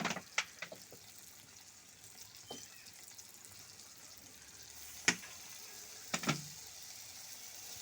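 A paste of poppy seed and mustard sizzles in a pan with a soft, even frying hiss, broken by a few sharp clicks and scrapes of a utensil.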